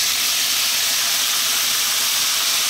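Soy sauce hitting fried garlic in a hot pan gives a loud, steady broadband sizzle and hiss that runs unbroken throughout, with no voices.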